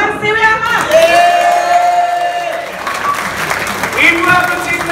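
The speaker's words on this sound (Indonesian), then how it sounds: "tepuk tangan untuk Ibu Harsiwi Ama." A crowd applauds and cheers at a Liga Dangdut announcement event, a loud, continuous wash of clapping with whoops while voices talk over it.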